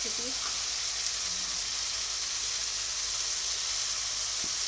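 Peas dropped into a hot pan sizzle with a loud, steady hiss of frying, cooked for a fish curry with winter vegetables, with a faint voice briefly at the start.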